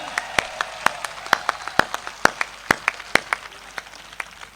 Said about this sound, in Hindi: दोनों हाथ आपके आकाश में उठे और बालाजी के मस्तक पर आपकी तालियों का अभिषेक हो